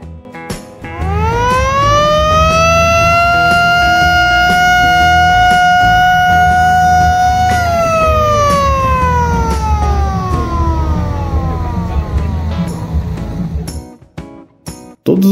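Vintage ambulance siren sounds at a classic car show in Pinhais, a loud, close, sustained rising wail that holds steady and then slowly falls away, with faint crowd noise beneath and brief clatter at the end.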